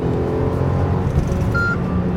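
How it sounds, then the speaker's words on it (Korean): From inside the cabin, a Mercedes-Benz GLC 300 Coupe engine hums as it accelerates, a steady mid-range drone with faint road noise and a brief high tone. "엔진 소리가 굉장히 특이하게 들려옵니다"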